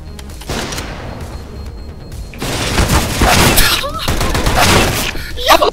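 Gunfire in a competitive bomb-plant shooter video game, loud bursts of rapid shots and impacts in the second half, with players talking over the action.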